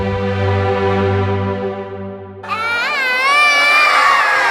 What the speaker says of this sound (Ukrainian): Це кричать у предсмертній агонії від страшного болю троє маленьких дітей.